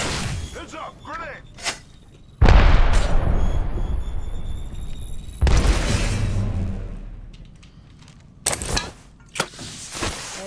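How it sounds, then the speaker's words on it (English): Grenade blasts in the Apex Legends video game, with two heavy booming bursts near 2.5 and 5.5 seconds that ring out and fade, plus shorter sharp bangs later. "Heads up, grenade!"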